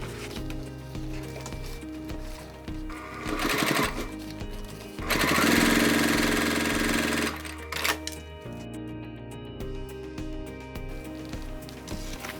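A sewing machine bastes crossbody bag fabric in place. Its rapid needle rattle runs in bursts that rise and fall, with the loudest stretch in the middle, heard close with no talk.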